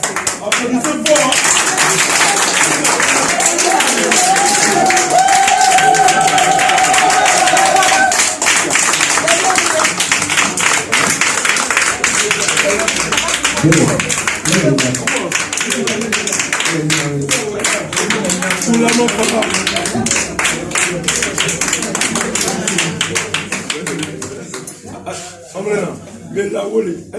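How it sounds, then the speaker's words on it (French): Crowd clapping at a traditional African wedding celebration in Paris, sustained rhythmic applause from many guests mixed with chatter and voices, with a brief melodic tone midway, continuing for most of the stretch before thinning out. "Applaudissez fort."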